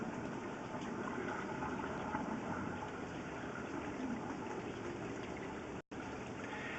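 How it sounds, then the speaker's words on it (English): A toilet flush runs through a main sewer line, heard from inside the pipe as a continuous, even rush of gushing water that drops out briefly near the end. "I'm just waiting for a flush of the toilet just to confirm."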